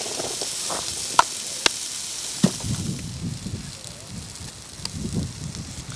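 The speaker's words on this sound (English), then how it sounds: "we've got our onions frying" Soft sizzling and crackling from onions frying in a pan for a sausage casserole cooked outdoors by a lake, with a few sharp clinks and a low voice murmuring in the background.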